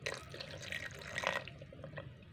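Water is poured into a mango smoothie in a kitchen, a brief trickle and splash followed by a few soft drips. It is faint and close.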